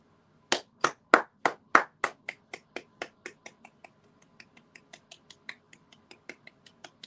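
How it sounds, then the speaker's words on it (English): A golf clap from one or a few people watching a Grenada versus El Salvador football match: five loud, crisp claps in quick succession, then a long run of softer, evenly spaced light claps tapering off, with no talk. "That's a golf clap."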